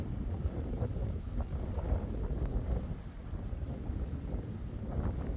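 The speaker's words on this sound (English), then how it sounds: "Nice windy ride home." Wind buffeting the microphone on a ride home on a cool, bug-free evening, a steady low rumbling roar with gusty swells throughout, close and fairly loud.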